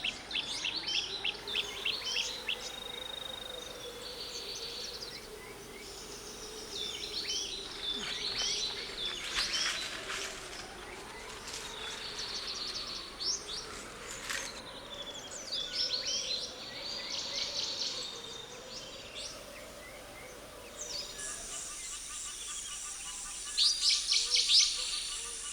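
Birds call and chirp in a volcanic mountain forest, scattered short songs over a steady insect drone, moderately distant, with louder bursts near the end.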